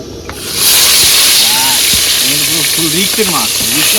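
Fish rubbed with salt and turmeric goes into hot oil, and a loud, continuous sizzling hiss starts about half a second in and holds steady while a person talks over it.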